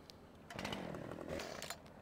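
A chainsaw in a farming video game starts up and runs for about a second and a half, rasping over a quiet background, with no one talking.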